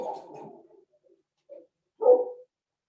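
A dog outside a house barks in short bursts, a few muffled barks at moderate distance separated by silence, the last one louder.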